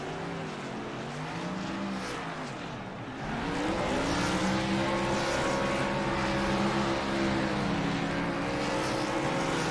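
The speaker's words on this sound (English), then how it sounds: "They all do burnouts" Several race cars doing burnouts together after a win at Talladega in a superspeedway racing video game, a steady loud engine roar with layered revving tones that swell and build after a brief dip, with no talking.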